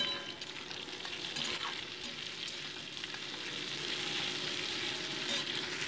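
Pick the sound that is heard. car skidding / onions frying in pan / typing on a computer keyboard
onions frying in pan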